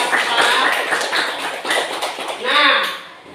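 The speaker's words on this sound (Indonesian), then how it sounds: "Oke, tepuk tangan." Children in an elementary school classroom clap their hands in a patterned, rhythmic burst lasting several seconds, fairly loud and close, with voices mixed in.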